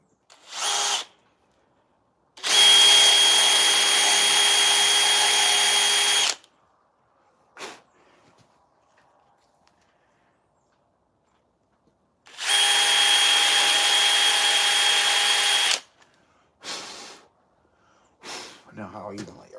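A power drill used during chainsaw wood carving whirs in two loud, sustained bursts of several seconds each, separated by quiet gaps with short noises and voices around them.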